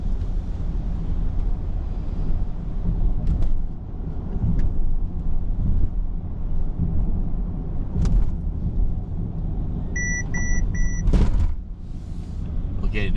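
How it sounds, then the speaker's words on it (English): A Mercedes-Benz EQE 500 SUV sounds its collision warning as a quick run of three bright electronic beeps inside the cabin, over steady road rumble while driving slowly up a wet mountain road in drizzle. "that's a collision warning"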